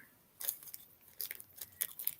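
Scissors snipping in a handful of quick, crisp metallic cuts, close and fairly quiet, in irregular bursts with brief pauses between.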